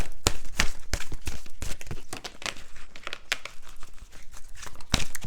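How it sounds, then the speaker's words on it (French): A card is drawn from an oracle deck amid close, busy rustling and crinkling, with irregular sharp bursts of handling noise over several seconds and no talk. "Allez, on va prendre ici une carte synthèse."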